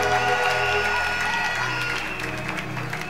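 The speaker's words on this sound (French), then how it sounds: "Acclame très fortement le Seigneur Jésus" A church congregation applauds and acclaims Jesus, a steady wash of clapping and crowd voices sustained throughout at moderate loudness.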